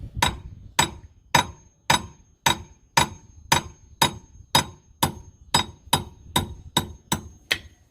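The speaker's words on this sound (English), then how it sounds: "Just got to give these a nice solid whack, and eventually they'll just push out the back." Steady, evenly spaced hammer blows, about thirteen sharp metallic strikes, driving wheel studs out of a C5 Corvette front hub, close and clear with no talk.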